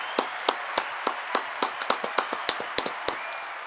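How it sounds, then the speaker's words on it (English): Steady hand clapping, sharp close claps repeating at an even pace with a few slightly faster beats, over faint background hiss on a casual talk show. "Round of applause for you."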